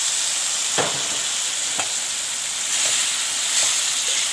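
Chicken pieces coated in masala fry in a pan, producing a constant close, loud sizzle punctuated by a few brief scraping stirs.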